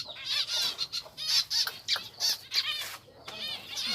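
Pigeons packed together in a breeding enclosure, giving bursts of wing flapping mixed with squawks and scuffling, close by and loud, with no talk.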